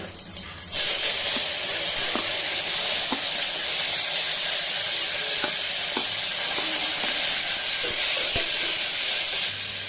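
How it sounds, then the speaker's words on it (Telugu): Tomatoes dropped into a pan of lightly browned garlic for tomato rasam set off a loud, steady sizzle and hiss that runs throughout, with faint stirring clicks scattered over it. "వెల్లుల్లి కాస్త ఎర్రగా అయ్యాక టమోటాల్ని వేసుకుందాం"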